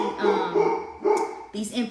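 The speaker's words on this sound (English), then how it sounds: "I'm sorry about the dog" A dog barks several times in short bursts nearby while someone talks over it in a kitchen during tea preparation.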